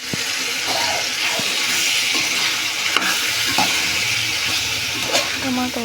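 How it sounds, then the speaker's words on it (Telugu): Tomatoes and chili powder stir-fried in a pan as a base for chicken biryani, with a steady loud sizzle and hiss and repeated scraping stirs of a spoon throughout. "టమాటా వేసుకున్న తర్వాత కలుపుకొని బాగా వేయించుకోవాలి."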